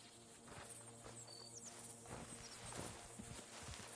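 Horse hooves clop at a walking pace in Red Dead Redemption 2, a steady uneven series of soft thuds heard over a low ambient game soundscape with no talking.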